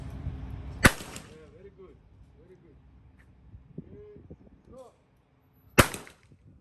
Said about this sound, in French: Le gars il arrive avec le pistolet. Il me ramène pour que je puisse tirer avec.